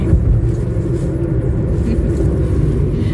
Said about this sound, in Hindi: ये अपना गाड़ी चला रहे हैं